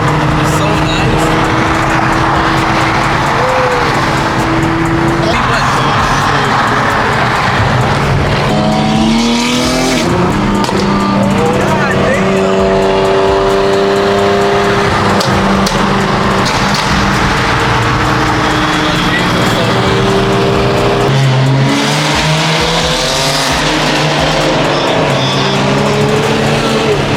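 Loud Lamborghini and Nissan GTR engines roar and rev continuously, rising and falling in pitch as cars accelerate past, with voices talking underneath.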